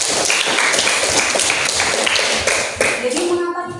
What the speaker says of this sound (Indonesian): Oke, beri tepuk tangan untuk Marwa.